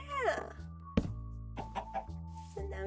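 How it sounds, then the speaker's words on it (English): Minecraft chickens cluck in short, close bursts over low game background sound, with several clucks spread across a few seconds. "So now we've got a cute little chicken."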